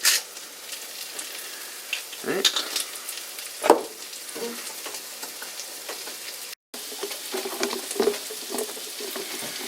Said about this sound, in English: I got some sauteed mushrooms going as well